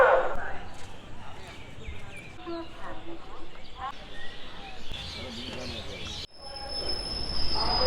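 A passenger train on platform three at a station near Asansol, with rumbling wheels, metallic squeals and clanks nearby, under a busy mix of crowd voices and talk.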